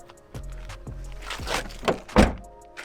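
A car door on a Lexus SC400 swings and thunks several times, with creaking hinge movement and a couple of louder closing knocks nearby.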